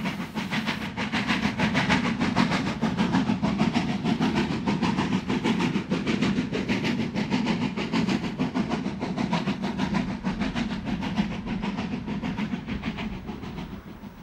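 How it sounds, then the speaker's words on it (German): Harzer Schmalspurbahn narrow-gauge steam locomotive on a test run, a steady rumbling roar with rapid rhythmic chuffing and clatter throughout, loud and close, no voices. "dass wir soeben eine Lokomotive der Harzer Schmalspurbahn bei einer Überprüfungsfahrt gesehen haben"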